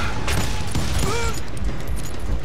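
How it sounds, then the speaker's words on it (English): Rifle fire in the Western shooter game Call of Juarez: Gunslinger, with loud sharpshooting shots and a brief ricochet-like whine over a dense, steady game mix. "This is my sharpshooting,"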